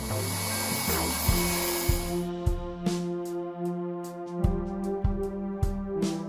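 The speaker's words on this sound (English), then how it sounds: "it's hard plastic, so we're going to start with the Dremel to get into it" A Dremel rotary tool cuts into the hard plastic of a headphone cord plug with a steady high-pitched whine, its pitch dipping in regular bursts as the bit bites into the plastic.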